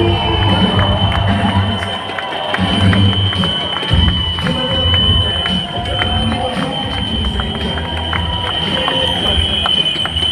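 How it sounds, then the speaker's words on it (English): A standing audience cheers and applauds to welcome a speaker, with dense continuous clapping and shouts filling a large room. "let's all stand up, give our massive Golang cheer, and warm welcome to the one and only Dr. Sanjay"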